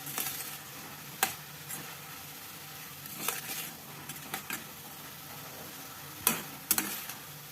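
Grated bottle gourd cooks in ghee over a medium gas flame for halwa, a faint soft sizzle with scattered scraping stir strokes up close.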